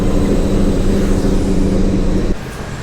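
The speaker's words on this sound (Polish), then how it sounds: "A lokomotywa." A loud, steady rumble of a train locomotive running close by at a station in Wrocław, droning evenly before dropping off abruptly near the end.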